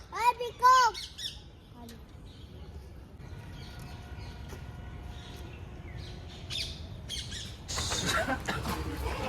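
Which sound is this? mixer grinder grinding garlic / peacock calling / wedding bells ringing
peacock calling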